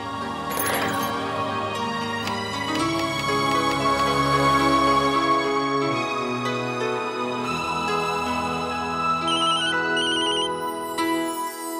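A telephone ringing in a Hindi TV drama household, a continuous melodic ringtone that sounds steadily at close range for about twelve seconds, with no one talking over it.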